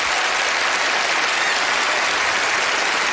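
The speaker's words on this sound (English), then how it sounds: "let's give him a big round of applause" A big round of applause from a television studio audience at Penn & Teller Fool Us, a loud, dense and continuous roar of clapping that holds steady throughout with no voices above it.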